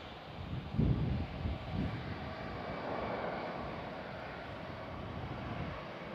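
A United airliner lining up on runway 2A left at San Francisco International Airport, its engines a distant, steady low roar with a brief louder rumble near the start, heard alone.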